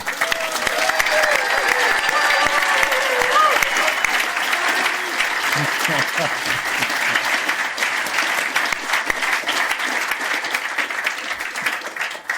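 A crowd at an outdoor Big Scrub gathering applauds loudly and steadily for the whole stretch, with some voices and cheers mixed into the clapping.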